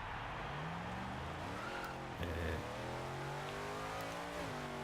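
A Hot Wheels car in Forza Horizon 3 revs its engine, the pitch rising and falling through several gear-like sweeps with a brief skid or bump near the middle, fairly close and continuous.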